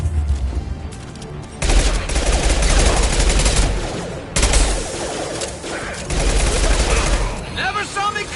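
Rifle gunfire from a firefight in the video game Mass Effect 2, loud sustained automatic bursts with short pauses, mixed with game effects.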